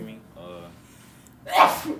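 A single sharp sneeze bursts out near the end, following a moment of quiet background murmur.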